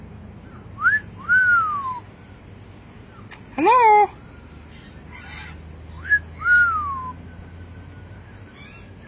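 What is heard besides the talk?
bird whistling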